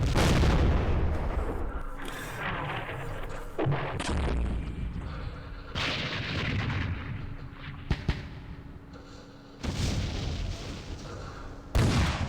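Artillery pounds away in Campaign Series Vietnam during the Dien Bien Phu battle, loud booming volleys arriving in repeated bursts, each a heavy blast with rumbling tails, several sharp cracks mixed in over a steady low drone.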